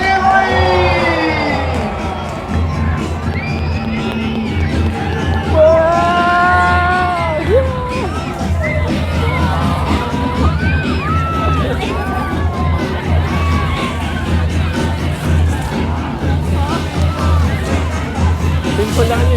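A large carnival crowd at the Nice Carnival cheers, yells and whoops on cue, a dense continuous roar with piercing shouts and whistles rising above it throughout.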